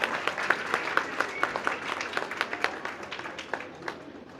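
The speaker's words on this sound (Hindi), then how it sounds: "जोरदार तालियां।" Loud, sustained applause from a crowd welcoming an education minister at a village temple committee event, dense rapid clapping with sharp individual claps throughout.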